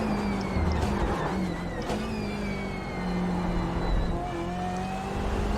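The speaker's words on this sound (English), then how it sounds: "Are you hearing that whine, this car" A high, sustained race car engine whine in the iRacing sim at Laguna Seca rises and shifts in pitch over a constant mechanical drone, loud and continuous throughout.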